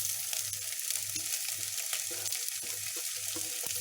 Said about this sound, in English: right now I'm adding all of my vegetables